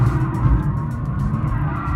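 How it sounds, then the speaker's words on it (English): A Mercedes-AMG C-Class saloon with 700 Nm of torque lighting up its rear tyres and holding the back end out: a loud, continuous engine drone mixed with steady tyre noise, unbroken throughout. "lighting up the rear tyres and just holding this car's back end out"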